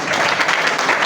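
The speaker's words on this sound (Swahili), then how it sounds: "Sana makofi kwa youth." A crowd at a public youth gathering in Isiolo claps steadily in a brief, dense burst of applause with no talk over it.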